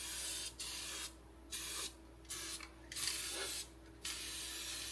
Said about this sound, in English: But what I'm gonna do is spray this in there.